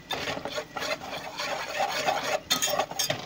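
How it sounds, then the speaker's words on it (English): A whisk stirs a thickening roux for Southern macaroni and cheese, giving a steady scraping, rasping rub against the pan, close and continuous with rhythmic strokes and no talk. "you're going to want to use a whisk like this. And just go ahead and stir it until it gets really thick"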